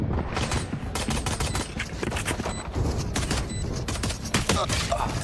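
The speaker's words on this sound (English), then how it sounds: "Mata sends out some shots, but has to drop away" Dense, rapid gunfire from a Rainbow Six Siege match at an Esports World Cup playoff: continuous overlapping bursts and single shots, loud and close throughout, with faint talk underneath.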